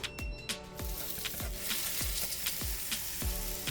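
Burger patties fry in a little oil in a stovetop skillet, a steady close sizzle broken by a series of sharp knocks and scrapes at intervals, with no talk.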